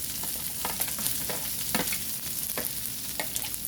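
Chopped onion sizzles and sautés in a hot pan while being stirred, a steady loud frying hiss with scraping stirs throughout and no talk.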